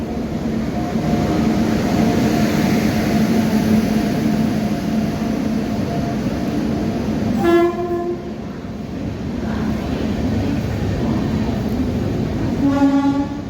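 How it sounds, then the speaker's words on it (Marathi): The Pandharpur–Mysore Gol Gumbaz Express sits at platform 2 of Kurduwadi railway station, rumbling loudly and steadily, with two sharp horn blasts, one midway and one near the end. "या ठिकाणी पंढरपूर मैसूर गोलगुंबज एक्सप्रेस आलेली आहे प्लॅटफॉर्म नंबर 2 वर"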